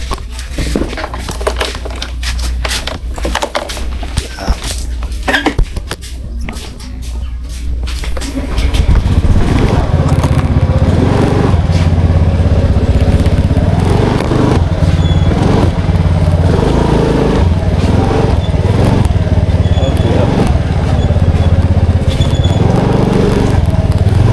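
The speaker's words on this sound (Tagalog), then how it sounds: "Labas ko lang motor." Rustling and shuffling give way to a loud, steady motorcycle engine idling close by, rumbling continuously.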